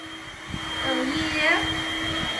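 A vacuum cleaner runs with a steady whining hum, its pitch sweeping up and down as it moves, while voices are heard talking faintly in the background.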